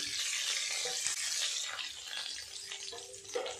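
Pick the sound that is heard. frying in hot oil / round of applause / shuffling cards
frying in hot oil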